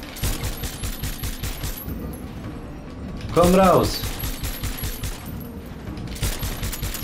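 Rapid bursts of gunfire from the video game Far Cry 6 crackle in quick volleys at the start and again near the end. Someone speaks briefly in the middle.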